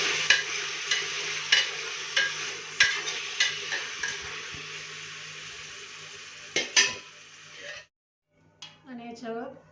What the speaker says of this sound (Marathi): चांगलं हलवून घ्यायचं.